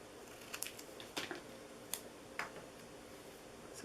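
A stamped wreath Christmas card being trimmed with scissors: a few quiet, crisp snips spaced irregularly, close up, with no talking.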